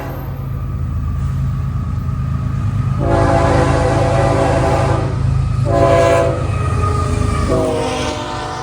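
A long northbound Florida East Coast Railway freight train rolling past, a steady loud rumble of wheels and engines with several blasts of the horn layered over it, no talking.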